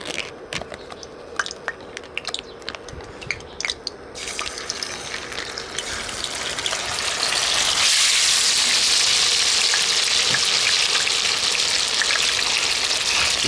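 Hat Yai-style chicken wings crackle and sizzle in hot oil with a steady, dense spatter. It grows noticeably louder and fuller about halfway through as the frying intensifies.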